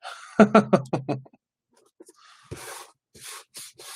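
Several short hissing spray bursts, close by, after a brief series of rapid pumping clicks and a quiet pause.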